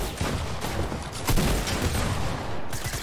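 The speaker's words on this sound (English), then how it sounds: "Everyone is shooting at me." Gunfire in Fortnite as several players shoot at once, a dense, loud barrage of overlapping shots that runs without a break, with one heavier volley near the middle.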